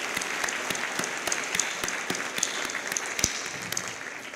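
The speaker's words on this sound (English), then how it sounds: "So if I could have a round of applause" A seated audience at a community college scholarship dinner applauds with a dense, steady patter of many hands that carries evenly for several seconds, without speech.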